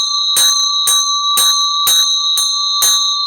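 A bell rung six times at an even, brisk pace, each bright metallic strike ringing out loud and near over a sustained high ringing tone.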